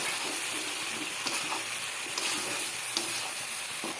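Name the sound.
sautéing okra with chili, cumin and turmeric powder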